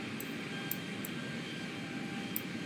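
Boeing 737-800 jet engines hum steadily in the X-Plane flight simulator during an approach to Cork, Ireland, kept at low volume with a sustained whine and a few faint clicks.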